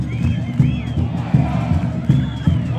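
A football crowd at a Londrina versus Botafogo match chants in rhythmic surges, loud massed voices pulsing roughly every second with a few higher shouts over the top.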